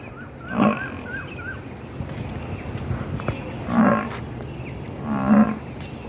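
Cattle low three times, deep drawn-out moos spaced a few seconds apart over quiet outdoor background noise.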